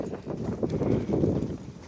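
Horse hooves clip-clop at a walk, as a muffled, low, steady plodding with a faint background hiss.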